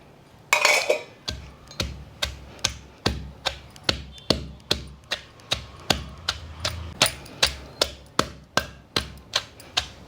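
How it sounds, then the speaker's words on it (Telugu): Garlic and cumin seeds pounded in a stone mortar for mango chutney, a steady run of about twenty sharp, close knocks at an even rhythm with no talk. "ఇదిగోండి వెల్లుల్లిపాయలు వేసి దంచుదాం జీ జీలకర్ర కూడా వేసేస్తున్నా"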